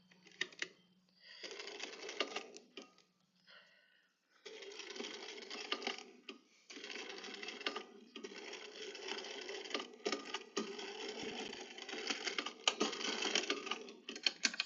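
Home sewing machine stitching fabric on a longer stitch setting, a close, steady mechanical whir with rapid chattering in bursts separated by short pauses.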